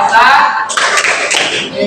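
A classroom of students clapping a rhythmic clap chant, a few loud clap bursts in a pattern over students chanting along.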